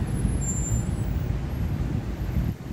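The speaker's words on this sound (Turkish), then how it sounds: "Arkadaşlar çok trafik var" Heavy road traffic of cars, trucks and buses makes a dense, continuous low rumble, loud and unbroken throughout, with no voices.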